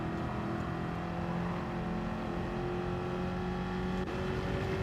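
A car with a 4-speed gearbox accelerates hard in Gran Turismo 7, its engine a constant rising drone and whine at moderate loudness with a brief shift-like blip near the end and no talking.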